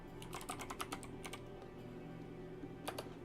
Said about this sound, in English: it helps if I'm actually typing it in chat.